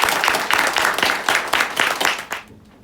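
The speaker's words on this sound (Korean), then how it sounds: "인사하실 때 박수하겠습니다" A church congregation claps in applause for just under three seconds, then fades out quickly.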